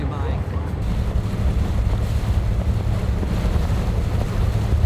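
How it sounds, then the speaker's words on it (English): An abra boat crossing Dubai Creek, with a constant low engine rumble and water wash mixed with gusty wind buffeting the microphone, loud and unbroken throughout. "I just love crossing the creek on an Arba boat with the locals."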